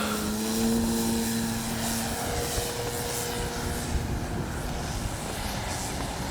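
A Hangar 9 Valiant 20cc RC airplane flies overhead, its propeller engine a steady droning whine that holds a tone and then slowly shifts as it passes at moderate distance, with no talking.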